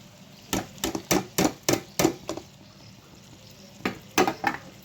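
A spatula stirs spiced stuffed eggplant curry with masala powder in a pan, making a run of rhythmic scraping strokes, then a short pause, then a few more strokes, with no talking.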